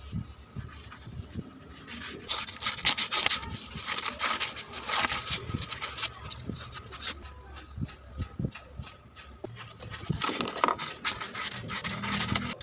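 A desk fan's metal shaft is sanded or filed to strip away sticky grime and dust, producing continuous close scraping and rubbing strokes with occasional light metallic clicks.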